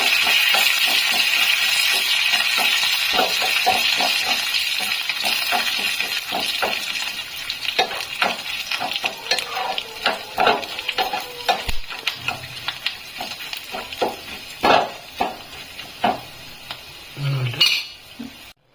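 Coriander leaves and tempering frying in a pan for traditional curd rice, with a steady close sizzle broken by frequent metal spoon clinks and stirring scrapes, and no talk.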